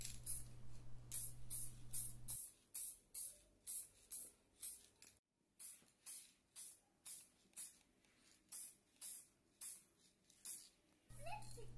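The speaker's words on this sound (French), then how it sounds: "Sur la carrosserie, une dernière couche est faite à la bombe pour un aspect final impeccable." Aerosol spray paint can laying a final coat on the bodywork of a miniature camper van urn, a series of short sharp hissing bursts in a steady rhythm, close and crisp, with brief gaps between sprays.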